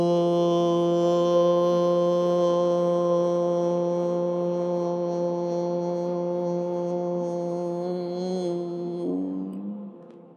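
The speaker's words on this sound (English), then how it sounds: "Now you are going to make the sound Om and radiate the sound in the entire atmosphere" A sustained group Om chant during guided meditation, one long steady harmonic tone held for about nine seconds, full and resonant, then sliding and fading out at the end with no talk over it.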